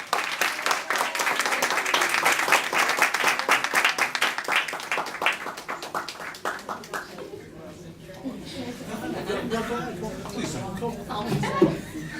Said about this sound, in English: I just want y'all to give her a round of applause